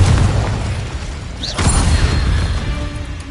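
A Confringo explosive spell bursts in the Hogwarts Legacy video game, a deep rumbling boom with a bright crackling flash in the middle, rolling into a low sustained roar over game ambience.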